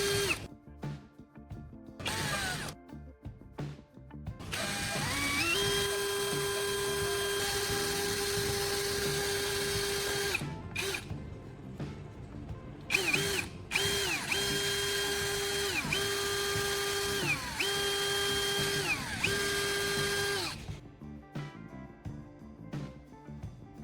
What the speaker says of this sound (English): I'll drill a hole through the diameter of both caps, just big enough to fit a screw through.